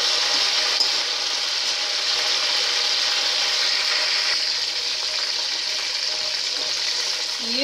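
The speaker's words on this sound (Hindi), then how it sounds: "फ्राई हो रही है" Cauliflower (gobi) pieces frying in hot oil, a steady loud sizzle and crackle that holds evenly throughout with no talking.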